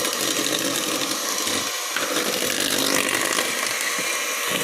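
An electric mixer whirs loudly and continuously, beating free-range eggs into a creamy batter for an orange semolina cake, with no talking over the steady motor noise.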